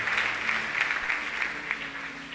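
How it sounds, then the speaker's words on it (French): A church congregation applauds steadily throughout, a dense continuous wash of clapping with a faint undertone of voices, fairly distant and even in level. "Nous acclamons Jésus."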